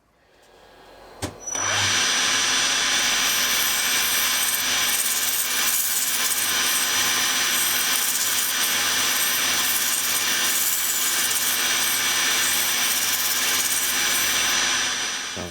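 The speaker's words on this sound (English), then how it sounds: "I'm going to try and sand out some of these tool marks and finish up the outside" Wooden bowl on a lathe being sanded to remove tool marks, a steady loud whirring hiss of spinning wood against abrasive that starts after a brief knock and runs on continuously.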